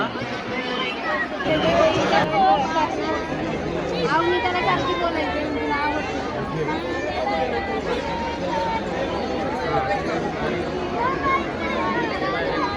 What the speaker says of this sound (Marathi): आज संडे संडेमुळं जबरदस्त गर्दी आहे आज इथं उभं राहायला जागा नाही